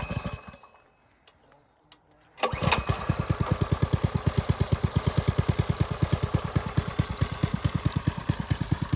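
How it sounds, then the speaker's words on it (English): After a quiet pause, a small gasoline go-kart engine sputters to life. It then runs close by with a loud, steady, rapid putter. "gonna start the engines."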